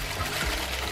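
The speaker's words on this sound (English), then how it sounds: "So I squeezed out the water in my socks." Water squeezed by hand out of soaked socks, a brief trickling splash of liquid dribbling down, close and short, with no talk.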